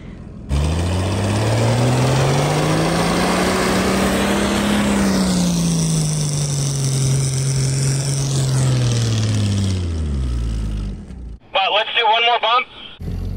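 A 2022 Ford Bronco Wildcat engine revs hard while stuck in three feet of snow, a loud sustained drone rising and falling in pitch for about ten seconds before cutting off, then a voice speaks briefly.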